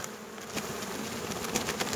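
A dense, steady buzzing of many honey bees, close and continuous, with a few louder passes and no voices.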